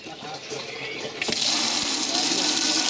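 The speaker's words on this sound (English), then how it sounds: "Has the sink got running water as well?" Water gushes steadily from a tap into a sink, a broad continuous rush starting abruptly partway through and holding loud to the end.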